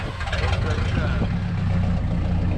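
A Dodge truck's 440 engine with a Demon carburetor idles with a low, steady, close rumble, while people talk over it.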